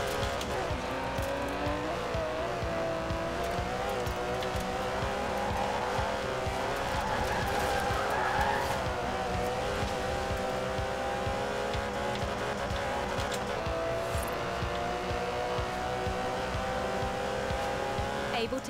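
A twin-turbo 5.2-litre V12 Aston Martin DB11 in Forza 4 drones steadily at speed, with tyres squealing and skidding through corners under a voice talking.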